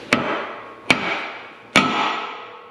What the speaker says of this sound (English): See, this is what you call a hammer.